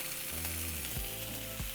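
Chile de árbol peppers fry in hot oil, giving a steady, faint sizzle broken by a few soft stirring clunks, with no voices.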